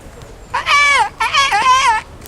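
In Kingdom Come: Deliverance, a person sings an imitation of warbling bird tunes, two close, loud, wavering whistle-like phrases with a short pause between them.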